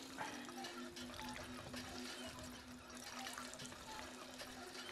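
Faint running, trickling water in Fallout 4 flows steadily and quietly, with a low hum underneath and occasional soft clicks.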